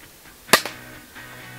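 A single sharp air gun crack fired at a green iguana, loud and close, followed by a quick fainter echo or impact snap, then quiet.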